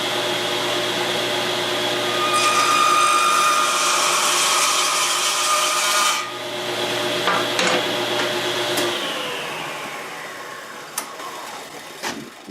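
A power saw whines steadily as it cuts a slot in a wooden steel-string guitar bridge, its pitch shifting under load, then winds down and stops near the end.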